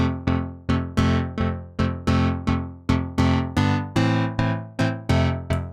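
The Piano 1 preset on the TAL-Pha Alpha Juno II synth plays a steady run of about fourteen loud, percussive electric-piano chords, each struck sharply and decaying quickly in an even rhythm, alone with no talk.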